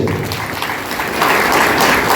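Audience applause at a Brahman Mahasangh Barshi branch ceremony honouring journalists, a dense steady clapping that swells slightly louder in the second half, heard alone without talk.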